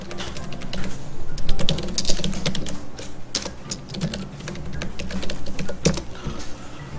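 Computer keyboard typing during AutoCAD drafting work, a steady run of clicky keystrokes with a few louder taps, close and continuous for the whole stretch, with no talking.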